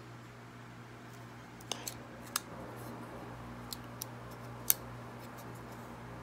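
A Benchmade Mini Griptilian 557 folding knife flicked open and closed, giving a handful of small, sharp clicks scattered over a quiet steady hum, close up and faint.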